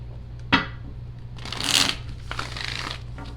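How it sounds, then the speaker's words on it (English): Playing cards are riffled and shuffled in a few quick bursts, close and crisp against a low steady hum. "3 shuffles."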